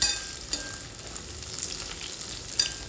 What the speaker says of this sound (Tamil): பூண்டு, வரமிளகாய் எல்லாம் எடுத்து வச்சுருக்கோம்ல, அதை இதில் போட்டு செவந்து வர்ற அளவுக்கு வதக்குவோம்